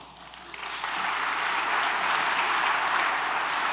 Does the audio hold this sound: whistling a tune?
no